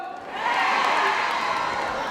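A large crowd at an outdoor county-day trot music concert in Okcheon, South Korea cheers and applauds loudly and steadily, a broad roar of clapping and shouting that swells early and holds throughout.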